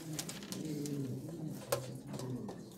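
Pouter pigeons coo softly in a loft, with a low, rolling, repeated cooing from several birds at close range and a faint background hum.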